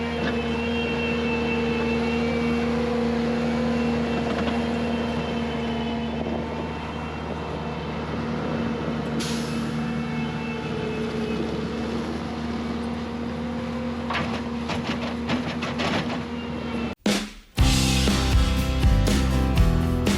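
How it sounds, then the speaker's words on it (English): A truck comes down the road while spoil is being hauled, a steady engine drone that builds as it nears and grows louder toward the end, with a sharp clunk and a shift in sound near the close. "There comes my truck. I can hear him coming down the road."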